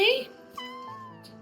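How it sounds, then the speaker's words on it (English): A cat gives a short, bright meow followed by a softer, drawn-out chirping meow, close by and clear against a quiet room. "Always meowing."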